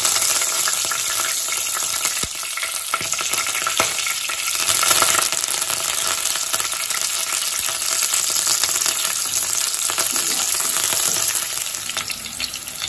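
Garlic and curry leaves sizzling in hot oil for a tempering for bottle gourd curry with milk, a steady, dense, crackling fry that runs continuously and close without any talk.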